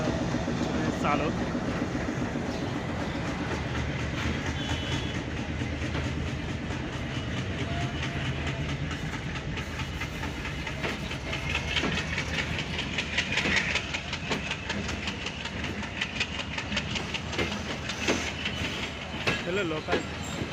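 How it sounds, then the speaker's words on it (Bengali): A local passenger train pulls out of Halsa railway station, a continuous close rumble with steady clickety-clack of wheels and a hiss, running for about twenty seconds, with faint voices at times. "ট্রেন এখন হালসা থেকে ছেড়ে যাবে।"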